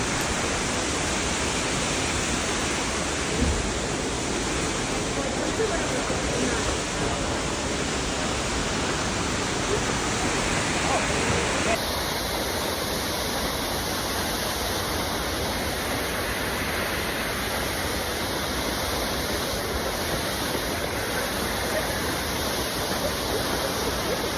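A waterfall in southern Laos gives a steady, broad rushing roar that fills the whole stretch without pause. Its tone shifts slightly partway through, and no one speaks.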